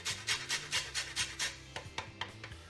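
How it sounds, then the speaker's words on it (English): A small grater scrapes rhythmically across a lime, giving about a dozen short rasping strokes, close and fairly loud, with a low hum running underneath. "Just get a small grater,"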